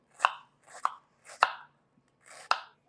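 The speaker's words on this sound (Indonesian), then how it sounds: "Kita iris-iris lah dulu ini ya" Shallots sliced with a knife on a cutting board, four distinct crisp chops spaced unevenly, close and clear against quiet.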